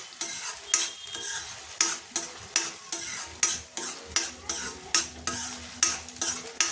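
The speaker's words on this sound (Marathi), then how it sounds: "हा मसाला आता छान असा तेल सुटेपर्यंत परतवून घ्यायचा आहे" Masala paste for dum aloo sautéed in oil over medium heat, with steady, evenly paced scrapes and knocks of a spatula against the pan roughly twice a second over a low sizzle.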